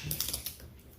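Tape being peeled off a slime container: a quick, faint, crackly ripping, close up, lasting about a second.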